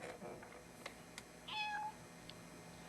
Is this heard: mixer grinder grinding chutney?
no